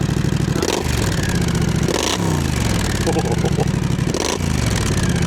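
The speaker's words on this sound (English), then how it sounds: "Oh, that sound! It's that 270-degree crank. It's that high exhaust." A Triumph Scrambler with a 270-degree crank and high-mounted exhaust idles with a loud, throbbing rumble, then is revved up hard three times, each rev swelling and falling back.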